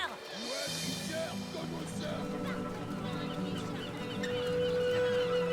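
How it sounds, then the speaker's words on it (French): Seagulls squawk and call in a cartoon, their cries layered over steady background music and voices talking throughout. "mais qu'est-ce qu'elles font là, toutes ces mouettes?"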